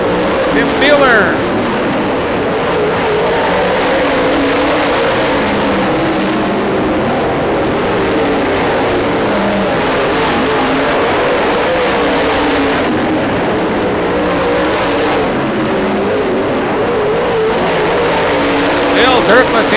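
Race cars running nose to tail down a track's backstretch, a continuous loud engine roar held for the whole stretch, with an announcer talking over it.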